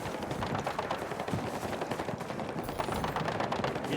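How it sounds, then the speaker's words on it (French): Machine gun fire rattles at a watchtower during a Battlefield 6 campaign battle, a fairly faint continuous stream of rapid shots blending into dense gunfire noise. "Mitrailleuse, tour de guet."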